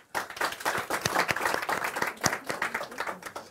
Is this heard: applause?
yes